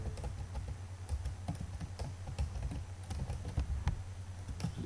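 Computer keyboard typing, with irregular clusters of close key clicks over a constant low hum, no voices.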